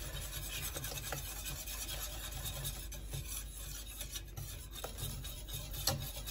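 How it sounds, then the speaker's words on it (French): Steady rasping scrape of a whisk stirring lemon tart filling of eggs in a pan over heat, continuous and close with faint irregular clicks and no talking. "Et il faut jamais arrêter de mélanger."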